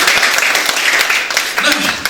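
Congregation clapping at a Pentecost Sunday church service, a loud dense burst of hand claps lasting a couple of seconds, with voices mixed in.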